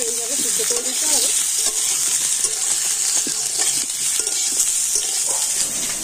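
Parboiled potatoes fry in a pan with a constant, close sizzle and crackle. Intermittent stirring scrapes sound over it, along with a few brief faint tones, and no one speaks.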